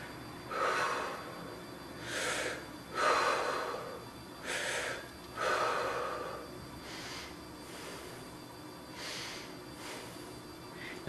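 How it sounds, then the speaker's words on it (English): Exaggerated deep breathing during a breathing exercise: about six slow, airy inhales and exhales in a steady rhythm, close and moderately loud, with no speech. "Now I exaggerated my breathing so that you can see what's going"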